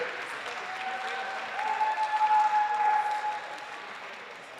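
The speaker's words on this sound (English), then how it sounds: "Fans, let's hear a big round of applause for our Trojans athletes" A crowd applauds for Trojans athletes at a SAIT women's basketball game against Briercrest. The clapping is steady and fairly faint, swells briefly in the middle, and then fades.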